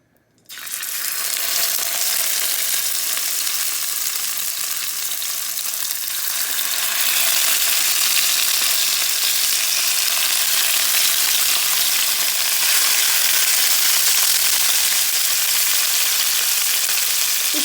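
Salmon fillet fries in hot vegetable oil with a loud, continuous sizzle that starts abruptly and stays dense and steady throughout, growing slightly stronger partway through.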